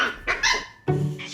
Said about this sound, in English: She's barking at my feet.